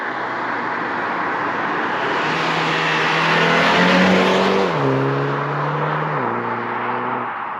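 A 2024 Mini John Cooper Works, the F56 LCI 2 hatch, accelerates hard with a loud, rising engine and exhaust note. It climbs in pitch, drops briefly at each of two gear shifts, then climbs again, and no one talks over it.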